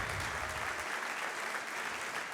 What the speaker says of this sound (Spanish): Si le vas a aplaudir a Él, dáselo con ganas